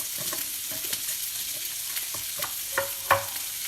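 Pork, garlic and onion stir fry sizzling in a pan, a steady broadband hiss with scattered spatula scrapes and clinks that grow sharper toward the end, close by with no talking.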